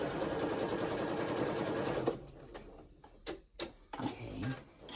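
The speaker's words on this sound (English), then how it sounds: "then you're gonna sew 1/8 of an inch seam down here" A sewing machine stitches a fabric potholder seam with a rapid, steady mechanical whir for about two seconds, then slows into a few separate ticks and clicks.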